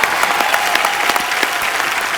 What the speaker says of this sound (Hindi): ऑनेस्टी के लिए तो तालियां बनती पहले।